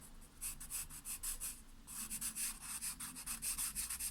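Charcoal rubs across paper while a realistic rhino drawing is shaded, making soft, rhythmic scratchy strokes in quick bursts, close and fairly quiet, with a short pause partway through.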